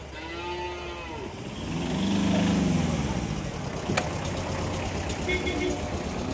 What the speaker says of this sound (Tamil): நாட்டு மாடு இருக்கு.